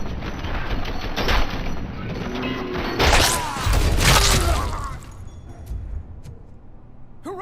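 Gunfire in the video game Robocop: Rogue City: rapid bursts of shots and impacts over a busy game soundscape, strongest around the middle, then fading to quieter ambience near the end.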